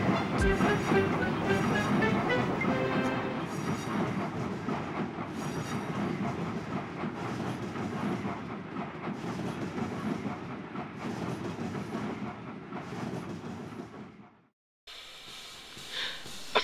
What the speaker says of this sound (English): Green Arrow pulled the empty coaches by, and together they brought the train back to York.